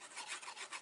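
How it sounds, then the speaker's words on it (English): A paper gift box is rubbed from the inside, producing a soft, steady, faint scraping and brushing close by, with no talk. "just give that a rub from the inside"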